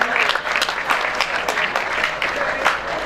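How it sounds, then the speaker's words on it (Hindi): Loud, dense applause from a school farewell party audience for Sir Arshad, a steady wash of many hands clapping close by, with some voices mixed in throughout. "जोरदार तालियां सर अरशद साहब के लिए।"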